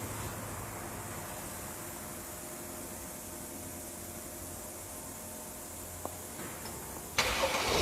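A steady Ford car engine drones for several seconds, then a sharp jump near the end as the engine cranks and catches, running louder afterward.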